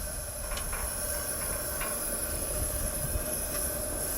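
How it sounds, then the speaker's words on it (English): A Coleman liquid fuel camp stove burns at full flame, giving off a steady, even roaring hiss that holds constant throughout, with a few faint clicks in the background. "Crank up the stove. We'll get some yellow flame."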